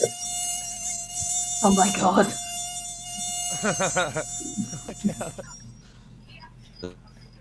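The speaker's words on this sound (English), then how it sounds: "That was a skeeter right there." A thin, high-pitched mosquito whine buzzes close and steadily throughout, while people talk briefly over it.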